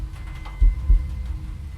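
Two deep, soft thumps close together, a single heartbeat-like pulse, over a low steady hum with no one speaking.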